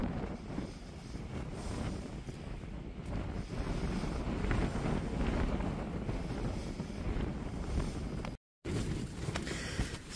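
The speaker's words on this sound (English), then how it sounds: "Starting to get some gusty wind now coming across" Gusty wind blows across the open ground of a cold mountain wild camp, roaring steadily close to the microphone with constant buffeting and no voices.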